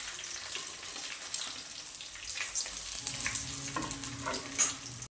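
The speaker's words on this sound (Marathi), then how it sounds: "तर इथे कांदा परतला की त्याच्यामध्ये कढीपत्ता आपल्याला टाकून घ्यायचा आहे।" Onion, curry leaves and chana dal frying in oil in a pan for upma, giving a steady, soft sizzle with stirring scrapes throughout and no voices.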